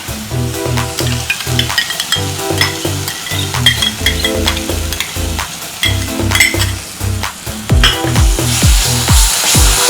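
Curd is stirred into sizzling paneer masala in a frying pan, with a steady loud frying hiss and a regular rhythm of utensil scrapes and clinks throughout.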